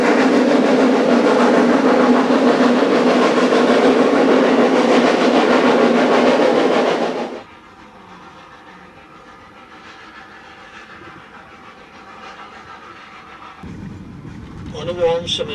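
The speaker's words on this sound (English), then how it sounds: "even above the noise of the locomotives" A steam locomotive on the Snowdon Mountain Railway makes a loud, steady, continuous rumble for about seven seconds, then cuts off abruptly, leaving a much quieter outdoor background.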